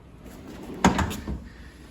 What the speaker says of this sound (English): This drawer is pretty heavy.